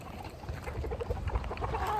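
Chickens in a backyard in Parañaque give soft, low, overlapping clucks close by, a brief murmuring flock sound with no talking.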